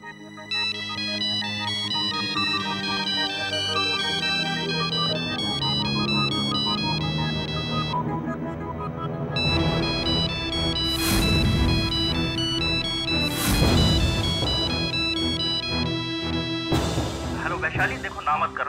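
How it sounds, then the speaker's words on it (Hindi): A mobile phone rings indoors with a loud melodic ringtone whose tune repeats steadily for many seconds, broken by a few brief sharp bursts. "अरे वैशु तुम्हारा फोन।"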